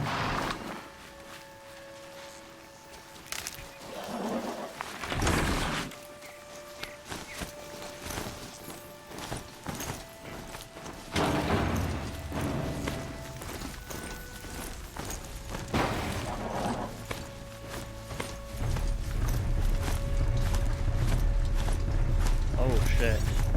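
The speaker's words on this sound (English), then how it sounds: "Hey, where's my horsey gone? Horsey!" A robotic mechanical horse mount from Horizon Zero Dawn approaches with clanking, ratcheting metal and hoof-like steps over game ambience, then a heavier rumble builds toward the end.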